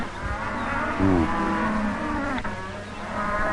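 Cattle penned in a livestock pen low and bellow in drawn-out moos, several overlapping calls rising and falling at close range over a steady background rumble, with no talking.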